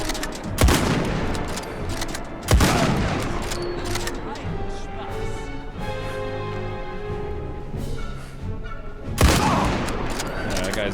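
Gunfire in Indiana Jones and the Great Circle: three sharp, loud shots spaced several seconds apart, each cracking over a background of game music and ambience, with a voice talking between them.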